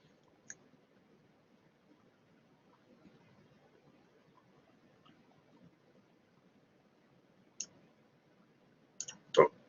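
A computer mouse gives a few sparse, quiet clicks over a faint hum, with a louder cluster of clicks near the end.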